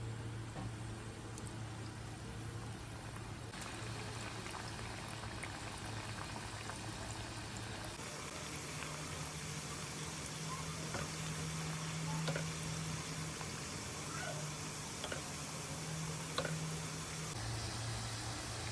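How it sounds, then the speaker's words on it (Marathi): Shankarpali pieces of maida dough deep-frying in hot oil over a low flame, giving a steady, continuous bubbling sizzle close by with no talk. "मंद आचेवर आपण आता शंकरपाळ्या तळून घेऊया।"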